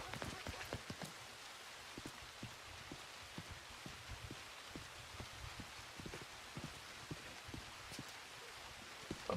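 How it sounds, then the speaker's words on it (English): Steady rain falls in a video game, a dense continuous patter of drops with scattered sharper hits on surfaces, evenly loud throughout with no voices. "Oh my, it's raining."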